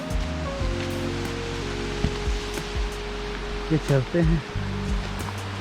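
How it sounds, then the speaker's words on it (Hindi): A forest waterfall at Bahgad Nala in Anuppur, India, rushes in a constant roar beneath a voice speaking briefly. "हम फाइनली पहुंच गए वाटरफॉल के पास"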